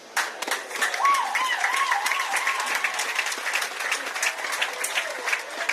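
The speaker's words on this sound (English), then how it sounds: "Big round of applause, ladies and gentlemen" An audience in a hall breaks into a sustained round of applause, dense clapping rising quickly and holding steady, with a few voices faintly mixed in.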